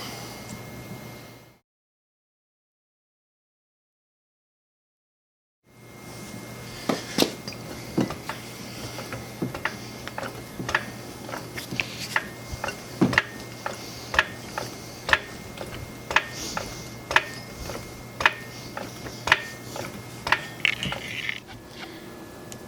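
A Miata is raised with a jack and set on jack stands. After a stretch of silence, a steady series of sharp metallic clicks and ratcheting taps plays over a low hum, close by, with no talking.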